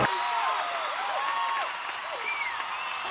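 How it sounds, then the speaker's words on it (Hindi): Audience applause at a Bhojpuri film award show, a steady dense wash of clapping and crowd noise holding at an even level throughout, with whistles or cheers rising and falling over it. "जोरदार तालियां, तालियां बजती रहनी चाहिए दोस्तों।"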